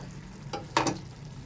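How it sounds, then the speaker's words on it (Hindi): Spices, peeled tomatoes and mutton for pulao being fried in a pan, a low steady sizzle with two brief scraping stirs near the middle of a short moment. "अब हम इनको थोड़ा सा भून लेंगे"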